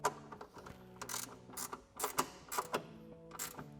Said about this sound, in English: And then tighten it down with my ratcheting 10mm wrench.